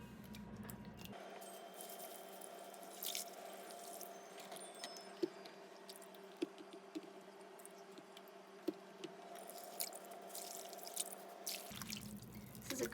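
Produce such as pears, a tomato and an apple rinsed in 9.5 Kangen water, giving soft, steady running water near the mic with scattered small drips and splashes throughout.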